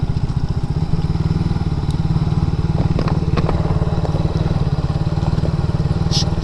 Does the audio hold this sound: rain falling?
no